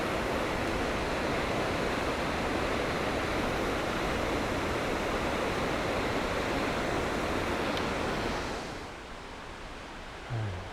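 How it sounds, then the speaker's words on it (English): A creek roaring below a steep, old-growth forest slope: a loud, steady broadband rush of water that continues without a break, then drops slightly toward the end. "There's the creek down there roaring."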